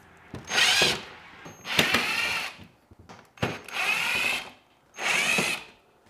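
A power tool backs out screws from the factory grille of a 2022 Subaru WRX, sounding as four close, loud whirring bursts of roughly a second each, separated by brief pauses and clicks.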